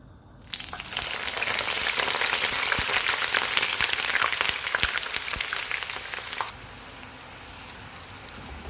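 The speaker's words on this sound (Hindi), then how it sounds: "ऑयल गर्म हो गया, इसमें थोड़े थोड़े बैंगन डालेंगे और फ्राई कर लेंगे" Eggplant pieces drop into hot oil on a medium-high stove and burst into a loud, crackling sizzle that holds steady for several seconds with scattered pops, then settles to a softer hiss.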